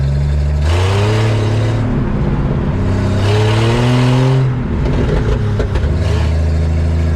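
A 1962 Ford F600 truck engine roars loudly up close, revving in long climbing pulls as it shifts into second and drives off, with no talking over it.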